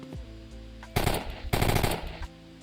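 An enemy in a video game opens fire on the player, two short bursts of rapid gunfire, loud and close, over a steady low synthetic hum.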